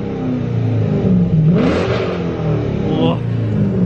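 Dodge Challenger WideBody engine revving up inside the car with a window cracked, a steady loud mid-pitched drone with a rising sweep in the middle, mixed with people talking over it.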